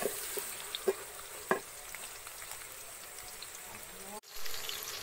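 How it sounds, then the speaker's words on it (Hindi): Sliced ridge gourd fries with spices in a pan while being stirred, a soft steady sizzle broken by a few scraping clicks of the spoon and a brief clatter near the end. "अब मसाले के साथ मिक्स कर लेंगे।"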